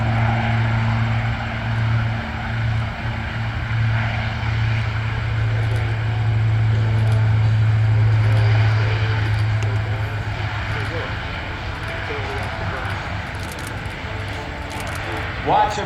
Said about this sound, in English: Now let's watch as they prepare to spool up these turboprop engines, jet engines that turn propellers.